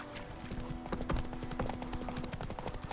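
Roach the horse galloping in The Witcher 3, a quick, even drumming of hoofbeats close up, continuous and fairly loud over a low game backdrop.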